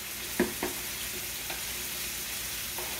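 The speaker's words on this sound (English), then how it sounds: "now I'm going to put the garlic in there" Garlic sizzles steadily in a hot pan while preparing a hamburger potato casserole, with a few soft stirring clicks and scrapes over a constant close frying hiss and no talk.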